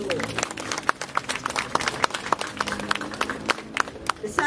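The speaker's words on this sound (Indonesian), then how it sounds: "Tepuk tangan dulu." Audience applause at a painting exhibition in Bali, with quick rhythmic clapping from a crowd, while voices murmur and talk underneath throughout.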